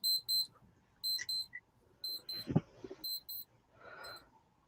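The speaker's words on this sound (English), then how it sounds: "My alarm on my stupid watch goes off at 5:30" A wristwatch alarm goes off in short bursts of high, thin beeps, repeating in a steady rhythm of paired and triple pulses, close and clear, with a brief rustle and faint voice between the beeps.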